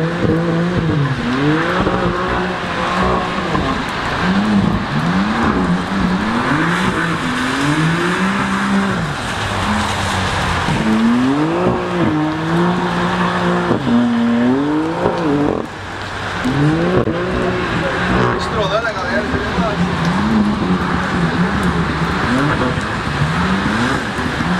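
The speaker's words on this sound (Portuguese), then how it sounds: "quero ver se tu consegue fazer drift com esse carro" Drifting on a track with a BMW M3 and a Nissan 370Z: engines rev and rise repeatedly in swooping waves while tires squeal, loud and continuous, with voices talking over it.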